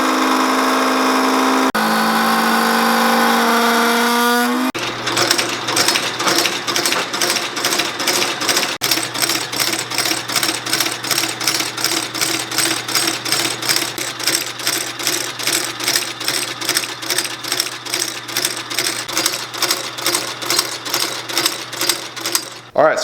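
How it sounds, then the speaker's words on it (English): Sole-stitching machine sewing soles onto Alden and Grant Stone shoes, starting with a loud whir, then settling into a fast, steady mechanical clatter of repeated stitches, close and loud for about twenty seconds. "we've got the soles stitched on"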